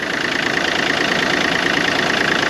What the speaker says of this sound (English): It's a Yanmar. I think it's a 40 horse engine.